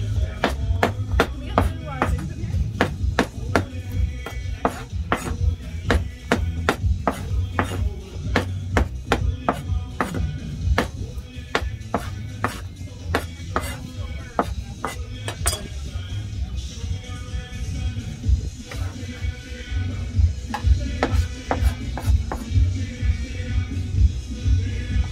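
Conch salad being chopped and tossed at a roadside stand in Freeport, Grand Bahama, with a steady run of sharp knife knocks and clinks against a board and bowl, close and loud, while voices talk at intervals.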